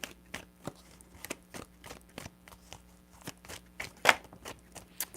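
Tarot cards being shuffled during a reading, a quiet, close series of sharp taps and clicks spaced irregularly, with one louder riffle near the end.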